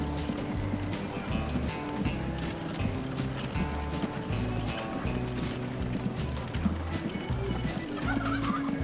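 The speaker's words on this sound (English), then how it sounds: "And once again, the inevitable turkeys." Turkeys gobble repeatedly in the Transport Fever video game, a dense chorus of loud rhythmic calls over a steady low engine-like hum throughout.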